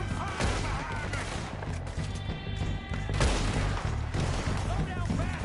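A Red Dead Redemption II shootout with dense, overlapping gunshots cracking in rapid clusters under shouted voices, dropping off briefly before another heavy volley.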